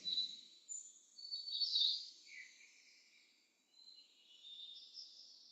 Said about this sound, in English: There are several different birds sounding.